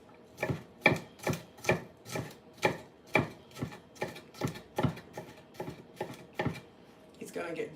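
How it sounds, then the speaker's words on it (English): Garlic being chopped by hand with a knife on a board, about a dozen steady, evenly spaced thuds close by, each a sharp crisp knock, with a softer rustle at the end. "for now I use the old method, chopping them."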